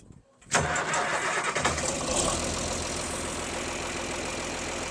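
An old dairy farm tractor engine cranks and fires up after a brief quiet moment, catching with a loud burst and then settling into a rough, steady mid-pitched running rumble close by.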